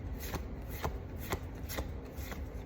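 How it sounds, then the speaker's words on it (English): Tarot cards shuffled by hand in a quiet room, a steady run of soft, papery riffles and slaps that repeat about every half second at close range, with no voices. "Let me shuffle."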